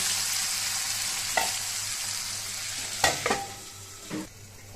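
A pot of fish belly curry with potatoes simmers with a soft steady sizzle while a spoon stirs it, making a few distinct scraping clinks against the pot. The sounds are close and moderately quiet, with no one talking.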